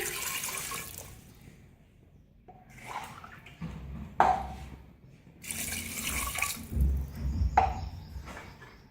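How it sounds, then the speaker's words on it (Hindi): Two glasses of water pour into a clay pot holding meat for aloo gosht, two separate gushing splashes a few seconds apart, close and fairly loud, with small clinks between them. "2 गिलास पानी शामिल करेंगे।"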